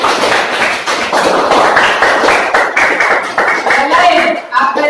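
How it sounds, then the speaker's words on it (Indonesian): Schoolchildren in a classroom clap together for a classmate in a loud, fast, rhythmic burst lasting several seconds, with voices mixed in. "Tepuk tangan buat Fauzan."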